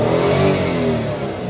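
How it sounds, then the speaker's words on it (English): A Hyundai Tucson engine with a crankshaft position sensor fault (P0335) revs up loudly and steadily, its pitch climbing as it accelerates, close by with no voices. "And the engine revs up"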